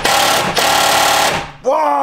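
An impact driver rattles in a sustained burst while driving a self-tapping screw, briefly dips, then resumes and stops. A loud, close hammering buzz, with a voice cutting in at the end.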